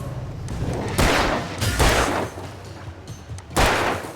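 Gunfire in a shooting video game comes in several loud, sharp bursts of rapid shots separated by short pauses, close and dominant, with no talk over it.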